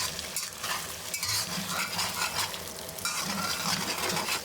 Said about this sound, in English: Immediately scramble the egg whites first, then the yolks, separating them a bit